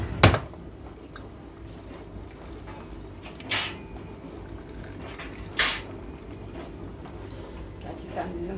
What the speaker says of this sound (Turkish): Çatal koyar mısın masaya?